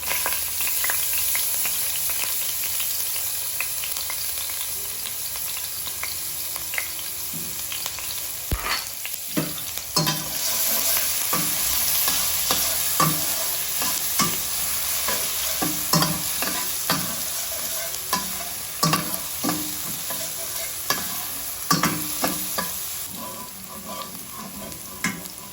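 Garlic sizzles steadily in a hot pan while a utensil scrapes and stirs it, with repeated clatters over a continuous loud frying hiss.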